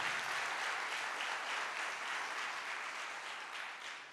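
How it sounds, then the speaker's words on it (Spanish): Church congregation applauding during a sermon: a continuous, dense wash of many hands clapping at once, steady and moderately loud from start to finish with no talk over it. "¿Cuántos pueden aplaudir su gloria?"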